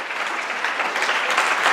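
Congregation clapping in church, a brief dense burst of many hands applauding together, steady and fairly loud.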